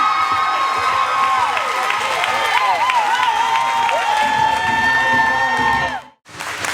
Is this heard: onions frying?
no